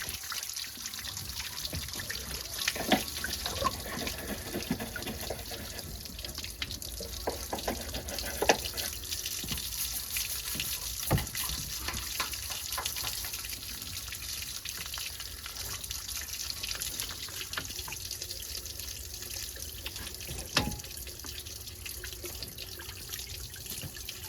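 Water runs steadily for a long stretch while rust is flushed from a car's cooling system and heater core, a continuous splashing trickle like a tap filling a sink, with occasional louder spatters and no talk.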